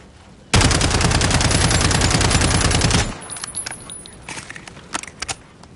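The Striker shotgun firing in Call of Duty, a loud dense barrage of rapid blasts for about two and a half seconds, then scattered clicks and lighter handling noises.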